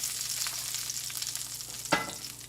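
A steak sears in a hot pan, building its crust with a continuous loud sizzle and crackle. One sharper hiss flares up near the end, with no talking.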